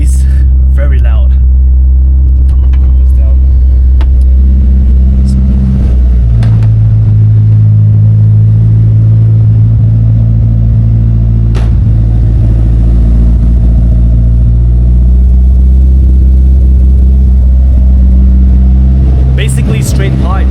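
Project car with a basically straight-pipe exhaust and Jasma muffler drones and rumbles loudly from inside the cabin, the engine note rising and settling through revs while someone talks over it.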